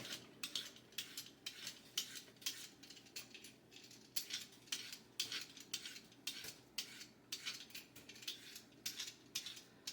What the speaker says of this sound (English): This is such a nice peeler, but got to be careful with these sharp peelers.